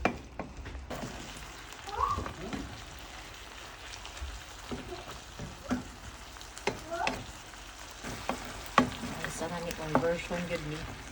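Ground pork sizzles and fries in a pan while being stirred and mixed, a steady crackling hiss with scraping stir strokes, close and moderately loud, with faint talk in the background.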